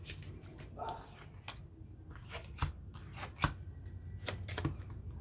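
Tarot cards shuffle for a card spread, a soft, close riffling with irregular sharp flicks and slaps over several seconds, quiet overall, with faint murmuring in the background.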